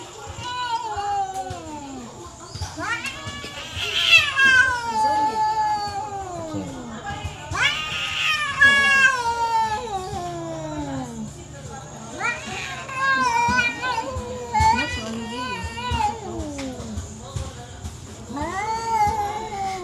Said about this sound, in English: Guys, listen how ridiculous these cats are.